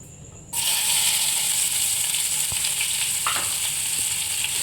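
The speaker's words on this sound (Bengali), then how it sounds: "একটা ভালো করে ভেজে নেব" A steady, loud sizzle of onions frying in a pan starts abruptly and continues, with a few faint stirring clicks.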